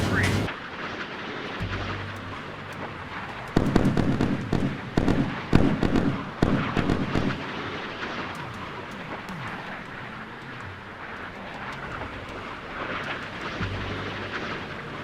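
Harpoon missile explosions striking a ship in the naval warfare game Sea Power: a cluster of loud, booming blasts and crackling impacts over a steady low rumble, with someone talking throughout.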